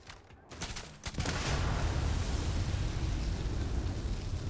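A grenade blast in the sci-fi video game Starfield bursts out about a second in, followed by a loud, sustained roar of rumbling debris and crackle that fills the rest of the moment.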